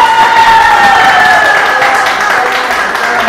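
Broad wash of clapping from a stadium grandstand crowd at a summer TV show, steady and sustained throughout with a whistle-like tone gliding over the top.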